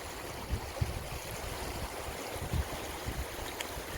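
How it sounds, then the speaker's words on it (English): The cold mountain stream of the South Fork of the Kern River, near Kennedy Meadows, rushes in a steady broadband wash of water with a few soft splashes and knocks, heard alone. "That's a mountain stream."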